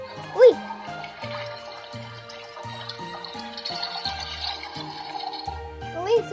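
A toy dollhouse toilet with a flower-patterned lid has its flush button pressed, setting off a short electronic jingle with a watery flushing sound that plays steadily for several seconds, framed by brief exclamations from a woman at the start and end.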